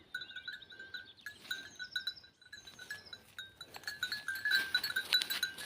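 Goats on a farm, kept alongside cows, bleat faintly in short calls while a bell clinks on and off, with the sound rising and growing busier toward the end.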